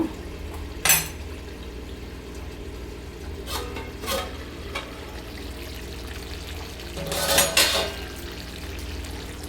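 A metal lid comes off a cooking pot of drumstick, potato and poppy-seed chorchori, with a few sharp clanks and a scrape over a low steady background hiss; nobody speaks.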